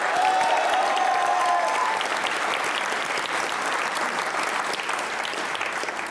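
A studio audience at a comedy talk show claps loudly and continuously, a dense, close wash of applause that holds steady throughout, with a brief whistle-like tone near the start and no clear speech.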